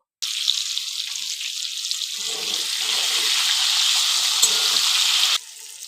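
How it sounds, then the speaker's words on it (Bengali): Potatoes go into leftover oil in a wok after small hilsa fish were fried in it. A loud sizzle starts abruptly, builds steadily, then drops sharply to a softer hiss at the end. "এবার বাকি তেলটাতে আলুটা ভেজে নেব"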